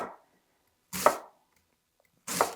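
Knife chopping through a head of cabbage for sauerkraut, two crisp, fairly loud chops about a second and a half apart with quiet between.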